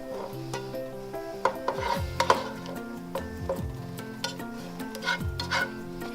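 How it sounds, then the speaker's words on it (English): Fried ground bison meat scooped out of a frying pan, leaving the fat behind: soft scraping and knocking of a utensil against the pan in scattered strokes over a faint sizzle. "I'm scooping out the ground meat, leaving the fat in the bottom of the pan"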